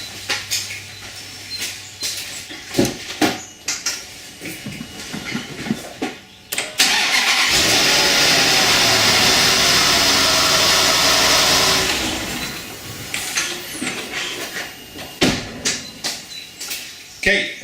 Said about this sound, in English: Let's go and start the engine,